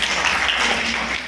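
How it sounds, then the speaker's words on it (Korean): An audience at a university innovation forum session applauds after a presentation, giving a short burst of dense, continuous clapping that fills the room evenly. "다시 한번 박수 부탁드리겠습니다."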